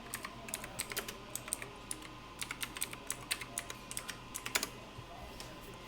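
Typing on a computer keyboard, a steady run of quick, light clicking keystrokes heard close and alone in a quiet room, with a few brief pauses between bursts.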